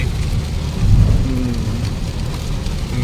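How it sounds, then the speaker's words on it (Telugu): Heavy rain pours steadily with a dense roaring hiss, loud and continuous, with a low rumble beneath it. "గట్టిగానే పడుతుంది వర్షం"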